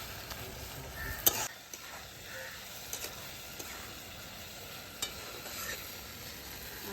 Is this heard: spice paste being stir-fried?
yes